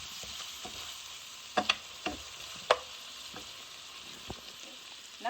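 Prawns sautéing in a pan, a faint steady sizzle with scattered clinks and scrapes of a utensil stirring against the pan.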